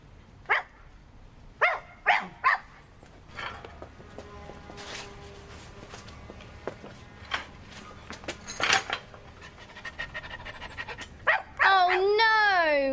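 Cartoon dog barking in a children's animated episode, several sharp barks and yips early on, then sparser barks under voices and music.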